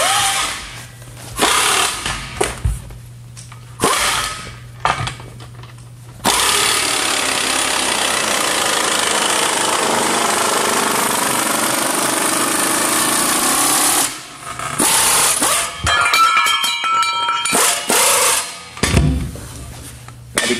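A Pneu-Tek pneumatic impact demounter works the bead off a stiff 17.5x25 tire, loud air-tool hammering in repeated bursts that run into a long continuous rattling stretch, then more short choppy blasts.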